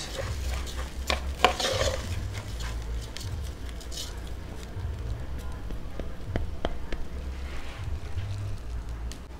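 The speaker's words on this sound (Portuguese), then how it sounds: "Dá uma misturada aqui para o azeite dar um gostinho no arroz." Rice is stirred with olive oil in a pan, with a spoon scraping and clinking against the metal in soft, irregular strokes over a faint background hiss.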